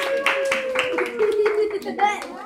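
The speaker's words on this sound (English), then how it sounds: "Clap your hands, everyone" Children clap their hands at a birthday party, with a rhythmic series of sharp claps close by and young voices talking and singing over them.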